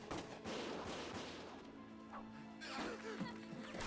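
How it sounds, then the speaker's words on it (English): Gunfire in the video game Valkyria Chronicles, a few sharp bursts of shots over a busy battle soundscape with steady low hum, fairly faint overall. "Gunfire!"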